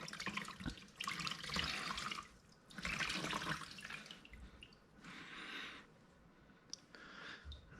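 Water is squeezed out of a GYTR high-flow primary air filter from a Yamaha YXZ, giving several bursts of splashing, trickling runoff with short pauses and small drips in between, close and fairly quiet.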